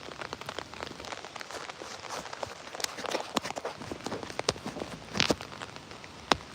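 Steady rain patters onto an outdoor surface on a rainy day, a dense soft hiss punctuated by scattered sharper drips and splats, with no talking.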